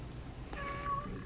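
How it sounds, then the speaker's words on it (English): Pet cat playing with new cat toys gives one short, clear meow, close by and quiet against a faint background hum. "Meow."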